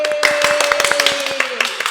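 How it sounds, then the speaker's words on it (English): A small studio audience at a live talk show claps in quick, sharp, scattered hand claps over a steady tone, loud and close, with a voice briefly heard. "so must give her a round of applause"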